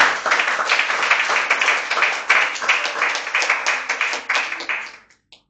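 A church congregation breaks into loud, sustained clapping and applause praising the Lord, the claps rhythmic and dense for about five seconds before tapering off to a few scattered final claps.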